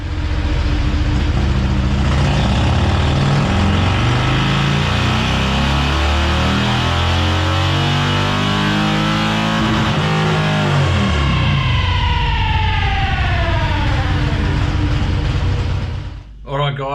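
A 131ci Stage 4 Harley-Davidson Street Glide engine runs hard on a dyno, loud and close, its pitch climbing and sweeping as it pulls up through the revs before cutting off abruptly at the end.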